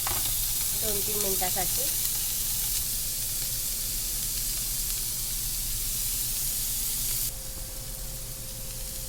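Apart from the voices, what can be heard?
paneer pieces frying in a pan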